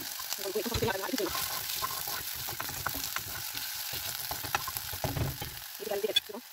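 Onions dropped into a pan with a few drops of oil crackle and sizzle steadily, mixed with stirring scrapes, while someone talks over the cooking.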